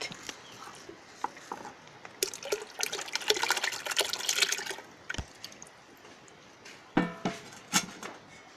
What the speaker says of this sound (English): now pour this boiled water into